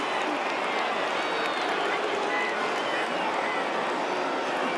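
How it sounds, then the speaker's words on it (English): A stadium crowd at a Troy vs Clemson college football game boos, a steady, dense wash of voices that holds at an even level throughout, distant and diffuse with no single voice standing out. "And the crowd replaces the silence with boos."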